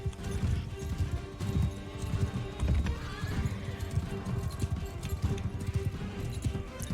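A horse gallops with rapid clip-clop hoofbeats and whinnies amid battle noise in Mount and Blade 2: Bannerlord, fairly close and loud throughout.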